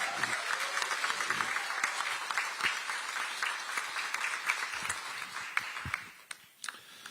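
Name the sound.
audience applause at a political rally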